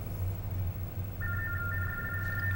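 A steady telephone tone sounds over a low hum on a phone service line, where an operator is typing an option. The clear beeping tone comes in halfway through and holds with a short break. No one speaks.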